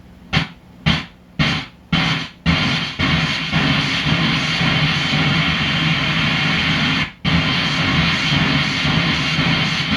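Several quick bursts of harsh electronic noise from a digital noise synth module set to very short decays, cut off sharply, followed by a sustained loud noise wash with one brief dropout.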